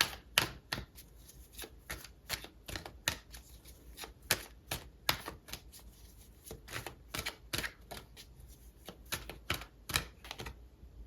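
Tarot cards being shuffled by hand, a long run of crisp, close riffling snaps and slaps in an uneven rhythm, heard on their own with no talk.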